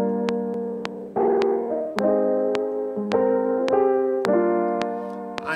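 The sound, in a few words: Chow Tape plugin tape wobble on lo-fi piano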